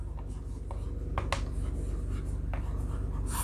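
Marker or chalk writing out a definition on a classroom board in a physics lesson on electric field lines, giving light scratchy strokes with a few sharper taps over a steady room hum.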